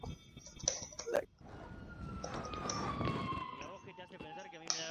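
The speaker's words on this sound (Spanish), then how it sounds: "¡Sirenas! ¡Escucho sirenas!" Police sirens wailing in a chaotic robbery-and-escape video game, a rising and falling tone sweeping under clattering game sounds and voices.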